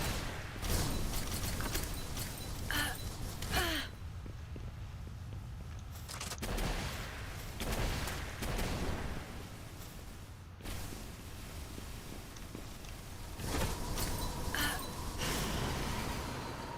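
Gunfire in the Palworld video game, aimed at a flying target in the sky. Loud, rapid shots crackle almost continuously through busy game noise, with brief lulls between bursts and no talking.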